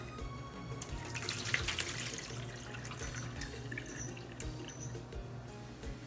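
Okra leaves rinsed under a running tap in a sink while cooking Haitian goat with okra, a steady close stream of water splashing over the leaves with some drips, and no talk.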